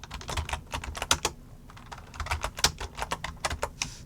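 Rapid, irregular keystrokes clatter on a computer keyboard during Python programming, close and crisp, with short bursts and brief pauses between words and no speech.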